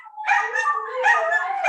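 Several dogs howl and yip together in a drawn-out, wavering chorus close by, rising and falling over nearly two seconds with no talk over it.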